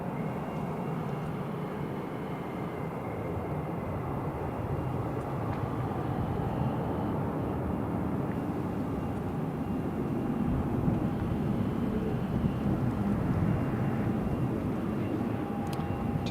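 An EasyJet airliner lands at Newcastle International Airport, its jet roar a steady, broad rushing rumble at moderate distance that swells slightly toward the end.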